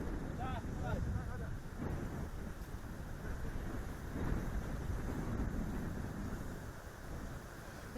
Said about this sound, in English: still the weather is quite crazy these days. So like the huge wind and everything